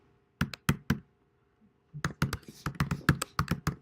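Typing on a computer keyboard: crisp, close key clicks come first as a short burst of three. A pause follows, then a quicker run of about a dozen keystrokes with no talking.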